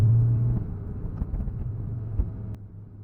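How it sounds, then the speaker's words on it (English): A small car powered by a computer-controlled, supercharged 3-cylinder 719cc Kubota diesel drives at full throttle, giving a steady, close, low droning rumble that eases slightly toward the end. "the 3-cylinder 719cc supercharged diesel at full song"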